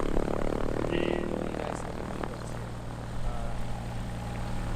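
A small propeller aircraft taxis in at an airfield fly-out, its steady engine drone and low rumble continuous and fairly close throughout.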